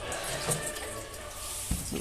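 Rainwater pours steadily into a storage tank through a makeshift setup, a continuous close splashing rush with a couple of soft knocks, and a voice speaking faintly beneath it.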